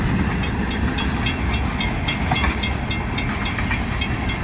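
A CSX freight train rumbles by close up in Plaistow, New Hampshire, with a continuous roar and a rhythmic clatter of wheels over rail joints.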